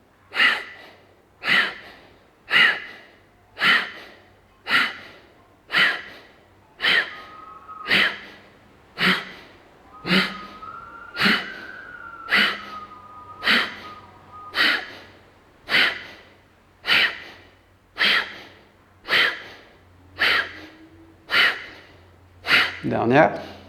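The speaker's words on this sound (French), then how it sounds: "On va faire Kapalabhati 20 cycles." About twenty forceful, rhythmic nasal exhalations of Kapalabhati yoga breathing, evenly spaced and close, with a low hum of voice under some strokes and a brief tone near the end.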